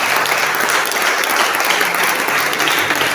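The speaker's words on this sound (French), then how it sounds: "On acclame la parole du Seigneur." A church congregation claps steadily and loudly, with dense continuous applause filling the room and no speech over it.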